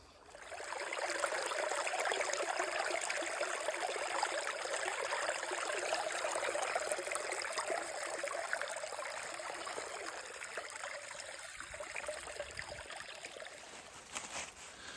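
Creek water flowing near a homestead, a close, continuous bright babble that holds steady for the whole stretch with no voices, easing slightly toward the end.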